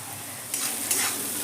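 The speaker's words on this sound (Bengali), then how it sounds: "দেখুন সবজিটা আমার প্রায় ভাজা হয়ে আসছে" Vegetables fry in a pan with a constant close sizzle, broken by a couple of brief scraping stirs.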